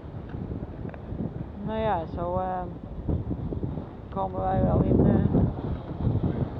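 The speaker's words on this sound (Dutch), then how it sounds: "Super mooie wind." Wind rushes across the microphone aboard a sailboat making nearly 7 knots on a reach, a constant low buffeting roar that swells and eases, with someone talking over it.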